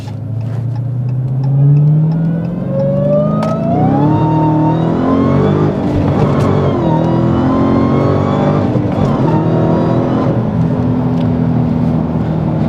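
A manual Dodge Challenger Hellcat accelerates hard up an on-ramp onto the highway, its engine note rising steadily through a gear, easing briefly, then climbing again, loud and close, with no talking.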